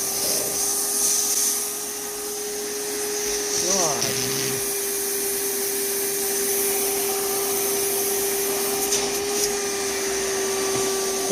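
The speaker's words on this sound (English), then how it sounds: "It's clogging my vacuum up." iRobot Roomba 960 robot vacuum cleaner running with a steady motor whine and a constant hum, loud and close, with a few brief rattling and clattering sounds from debris while it works.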